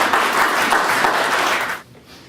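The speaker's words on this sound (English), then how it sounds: "Yes, that's the applause part" Dense audience applause at a press conference launching a fossil fuel freedom campaign, steady and fairly loud for nearly two seconds before cutting off abruptly to near quiet.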